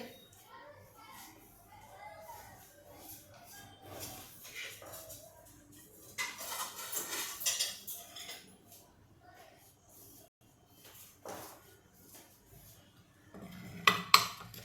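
A large plate and dishes are handled in a home kitchen, with scattered clinks and clatters of crockery and cutlery close by, a busier burst midway and a sharp knock at the end, and people talking intermittently, including a child.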